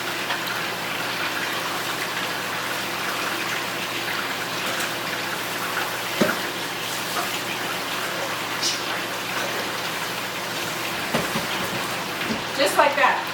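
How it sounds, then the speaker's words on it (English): Tap water running steadily while food is rinsed in a kitchen, a continuous close splashing gush with a few clinks and knocks near the end. "And rinse."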